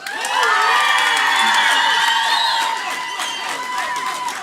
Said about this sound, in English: if I can have an outrageous applause for those who support the proposition